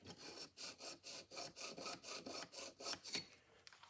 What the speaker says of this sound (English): you're just going to take the file and slide down the side there a little